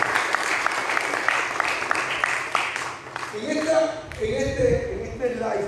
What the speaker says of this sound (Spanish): le pido un aplauso fuerte a esta pareja que ha tomado esta decisión